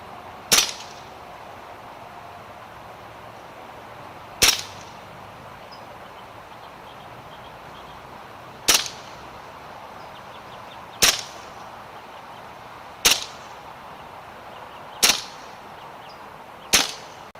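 Air rifle wearing a 3-9x40 scope fires pellets into a pumpkin at 25 yards, seven sharp cracks at steady intervals of roughly two to four seconds over a quiet outdoor background.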